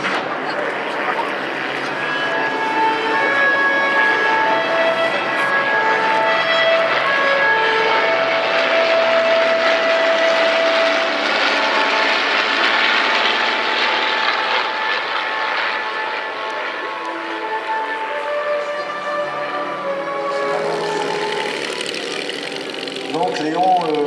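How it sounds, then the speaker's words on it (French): A patrol of Zlin propeller aircraft passes over an airshow at La Ferté-Alais, a steady loud engine drone sustained throughout with a French commentator speaking over it. "Voici une patrouille de Zlin"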